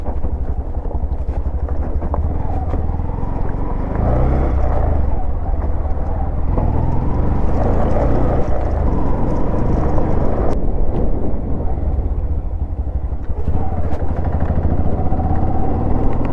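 A Bajaj CT 125X motorcycle cruises on a highway. A steady, loud engine drone blends with heavy wind rush for the whole stretch, with no pause, and no one speaks.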